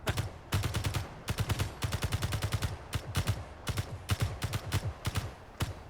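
Rapid bursts of gunfire in Space Engineers strike a shielded base, sharp repeated shots clustered into quick volleys that keep going, fairly close and steady with no voices.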